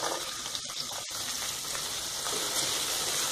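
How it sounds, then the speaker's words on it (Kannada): Green peas tossed into a hot oil tempering for akki thari uppittu, a rice-rava upma, give a steady close sizzle and crackle that runs throughout with no talking. "ಈ ಟೈಮಲ್ಲೇ ಬಟಾಣಿ ಕೂಡ ಹಾಕೊಳ್ಳೋಣ."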